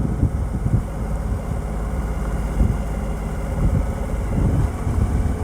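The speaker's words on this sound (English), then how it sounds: "Cruising in third gear at about 40 kilometers per hour." A Suzuki V-Strom 1000 motorcycle cruising in third gear at about 40 km/h makes a low, continuous engine rumble buried under heavy wind buffeting on the microphone.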